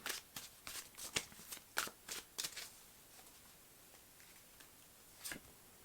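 Tarot cards shuffled by hand in quick, crisp riffling bursts, close and soft, pausing for a couple of seconds before one last flick.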